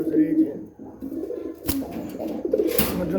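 Close pigeons, including Black Diamond and Giribaz pairs, coo in low rolling calls at a home loft, with a couple of brief sharp rustles or flaps breaking in and no clear speech.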